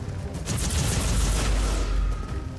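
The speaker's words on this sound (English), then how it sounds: "In the middle of gunfire." Dense, sustained gunfire and explosions from the game Warhammer 40K: Inquisitor - Martyr, a loud continuous barrage with booming low rumble and crackling bursts filling the whole stretch.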